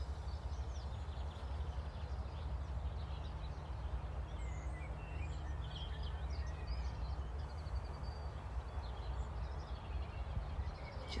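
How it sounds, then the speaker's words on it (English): Birds chirp and sing faintly and intermittently outdoors on a mountain, scattered calls over a steady low background hum, with no one talking. "Just listening to the birds."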